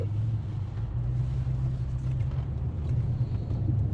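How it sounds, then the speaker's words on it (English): Downtown car traffic as a continuous low, steady rumble of engines, fairly loud and without distinct pass-bys. "traffic like nobody's business in the downtown."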